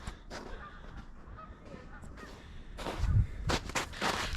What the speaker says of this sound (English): You hear geese?